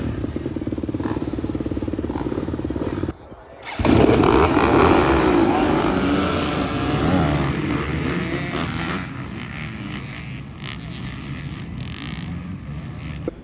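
A small-bore dirt bike built as a race bike for a 14-year-old is started in gear, its idle chatter breaking off briefly before the engine catches and revs up loudly, then settles to a rough, buzzing run, close by with some voices around.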